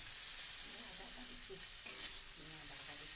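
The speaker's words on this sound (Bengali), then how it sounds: "গোটা এলাচ কাঁচা লঙ্কা তেজপাতা বরবটি গাজর আলু দিয়ে মোটামুটি ভালো করে ভেজে নিচ্ছি" Whole cardamom, green chili, bay leaf, long beans, carrot and potato fry in oil for a vegetable pulao, with a steady close sizzle and light spoon stirring, plus one brief clink.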